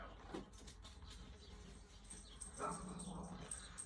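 A dog in a garden growls, whimpers and fusses at a squirrel, giving a few short yips and vocal bursts over steady outdoor background noise.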